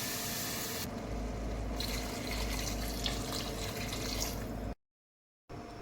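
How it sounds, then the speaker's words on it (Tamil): Water is poured from a tumbler into a cooking pot for four portions of Maggi noodles, a steady loud rushing splash that runs for several seconds, then a sudden cut to silence before the sound briefly returns. "அதனால 4 டம்ளர் தண்ணி ஊற்றிக்க போகிறேன்."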